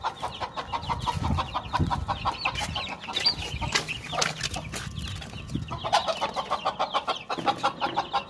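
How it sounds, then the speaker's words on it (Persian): Mother hen clucking among her chicks at a rural village farm, close and repeated in a quick rhythmic run of short clucks with no one talking. "بریم ببینیم مرغ مادر جوجه ها را کجا برده."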